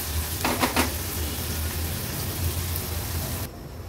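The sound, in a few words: onion frying in oil on a low gas flame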